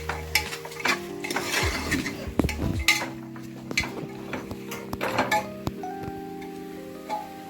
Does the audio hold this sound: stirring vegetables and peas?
yes